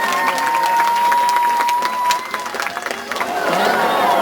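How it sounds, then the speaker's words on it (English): Audience at a live tiger show applauding and cheering after the big cats perform, a steady wash of clapping and crowd noise through most of the stretch, dipping briefly midway before swelling again, with some voices mixed in. "how about we get one more big round of applause for all the cats out here today."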